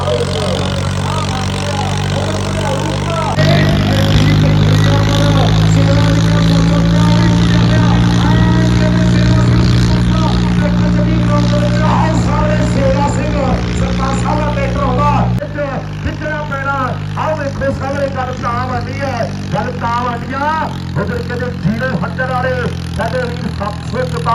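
At a tractor trolley-pulling contest, a heavy tractor engine drones loud and steady nearby, rising in a sustained rev before settling, while a commentator talks over the rumble.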